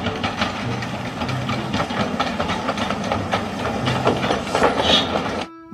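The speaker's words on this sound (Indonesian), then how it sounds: "Kereta uap." A toy steam train chugs and hisses continuously, with rhythmic puffing and clattering, ending abruptly.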